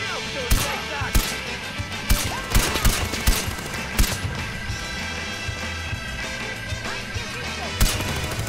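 Sharp gunshots ring out from a precise weapon in the shooter game Far Cry 4, a dozen or so loud cracks at irregular intervals over a constant layer of game noise.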